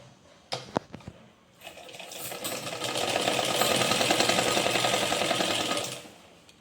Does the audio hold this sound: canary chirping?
no